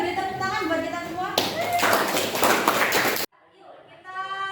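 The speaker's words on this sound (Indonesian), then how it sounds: "Beri tepuk tangan buat kita semua" Students clapping their hands in a classroom, a dense burst of applause lasting about two seconds between stretches of a teacher talking.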